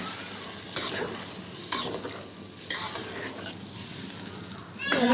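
Liquid is poured into a pan of sizzling fish curry with puti and tengra fish, tomato and potato, giving steady close frying hiss with a few sharp scraping knocks and a burst of bubbling near the end.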